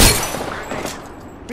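Gunfire in the Apex Legends video game, a close, loud burst of rapid shots that rings out and decays over about a second and a half.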